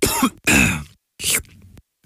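A man coughs and clears his throat in a cough medicine advert, two harsh bursts followed by a shorter third, loud and close with silence between.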